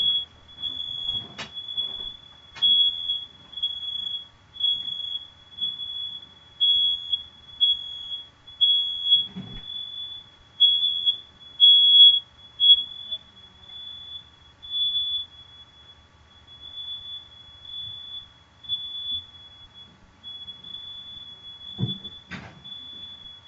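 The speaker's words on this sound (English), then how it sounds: "Alarm went off." A household smoke alarm, set off by someone cooking, sounds a steady high-pitched shrill tone for over twenty seconds, with occasional faint clicks and knocks in the room and no talking.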